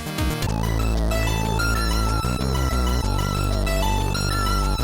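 Loud, dense chiptune music from an FPGA SID sound chip, with buzzy synthetic tones and rapid arpeggiated sweeps, playing continuously.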